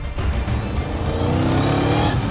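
A Mercedes car with a 5.5 litre V8 accelerates, its loud, rich engine roar rising steadily in pitch over a couple of seconds, close up and without talk.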